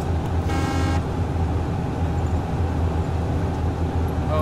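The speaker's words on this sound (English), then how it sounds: "I want to honk. It's the best." A car horn in the DayZ video game blares once in a short loud honk over the steady rumble of a vehicle engine driving along.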